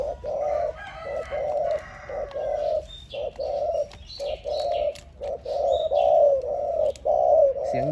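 A bird coos in a steady run of short, repeated calls, close and clear, with a few faint chirps in the background.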